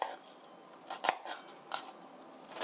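A knife taps quickly on a cutting board, finely chopping onion in a few light, irregular clicks, quiet and close.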